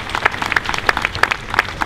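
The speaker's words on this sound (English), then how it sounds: "another big round of applause for the Tamina Girls High School Band" A crowd applauds a girls' high school band after its rendition of the Star Spangled Banner at a museum dedication, with dense, steady clapping and sharp individual claps standing out throughout.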